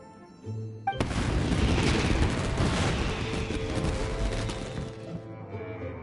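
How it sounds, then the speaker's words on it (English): Fireworks exploding in a video game, a dense unbroken barrage of booms and crackles that swells suddenly and rumbles on loudly for several seconds before easing off. "this is turning into a bit of a fireworks display"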